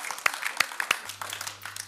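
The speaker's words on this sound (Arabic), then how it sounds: "إذا تصفيق على يوسف." Children applaud a young boy named Youssef on a children's TV show, a scattered patter of small hands clapping close by, a few sharper claps standing out, and a low steady hum entering midway.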